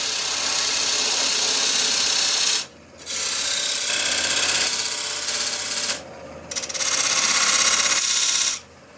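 A skew chisel cuts a dovetail into wood spinning on a lathe, giving loud, bright scraping hiss in three sustained passes separated by brief pauses, with no talking.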